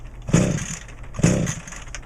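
Echo GT2000 string trimmer engine sputtering as it tries to start after a carburetor replacement, two short coughing bursts about a second apart, close and fairly loud, fading between attempts.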